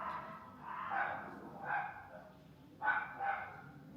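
Dogs barking indoors, three or four separate bursts of barks spaced a second or so apart, fairly faint and moderately distant, with no one talking.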